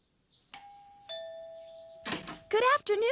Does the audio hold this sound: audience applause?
no